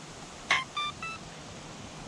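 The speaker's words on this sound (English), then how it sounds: "reach my hand in here, turn on this little ESC." A brushless RC truck's electronic speed control chiming on at switch-on: three short, clean electronic beeps in quick succession, fairly faint and close, with no talk.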